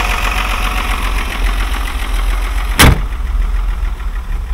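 Idling engine of a Mercedes 126, a steady low rumble heard up close with a brief sharp burst near the end as the revs start to drop.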